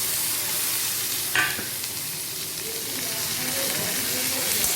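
Onions are lightly stirred as they fry in a pan, giving a continuous close hiss and sizzle with one sharp scrape partway through and faint background sound.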